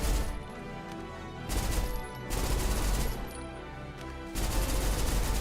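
Turret gunfire in a video game, heavy sustained bursts of rapid shots coming in three long blocks separated by quieter gaps, loud and close with a deep rumble.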